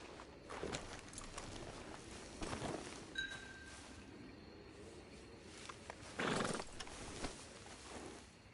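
A horse in the Red Dead Redemption 2 video game moves along with steady clip-clop hoofbeats under a continuous game ambience, with a louder burst near the end and a faint tonal sound in the middle.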